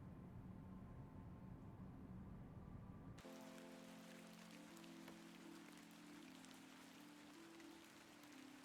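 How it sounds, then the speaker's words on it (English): Rain falls in the video game The Excavation of Hob's Barrow, a steady hiss that comes in suddenly partway through, over a low droning ambience with soft tonal music. "It's raining"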